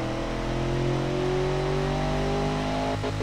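Car engine revving on a dyno in the Automation video game, a loud steady droning whine with slowly rising and shifting pitch, held continuously without voices.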